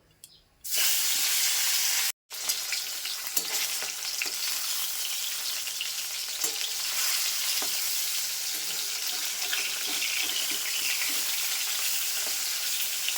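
Marinated fish frying in a pan: a sudden loud, continuous hissing sizzle that starts as the fish goes into hot oil, breaks off briefly, then resumes steadily up close with faint crackles, no voices.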